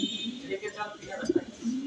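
Fancy pigeons, a pair bought at a market, coo softly in a home garage loft, a couple of low rounded coos rising briefly over a murmur of nearby talk.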